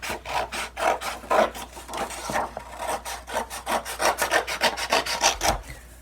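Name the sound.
cutting folded cardboard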